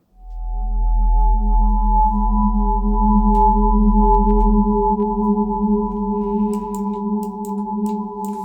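An additive synthesis pad plays a sustained chord of steady layered tones, swelling in quickly and holding with a long, fully wet reverb tail, smooth and alone with faint clicks near the end.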